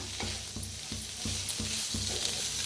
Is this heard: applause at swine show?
no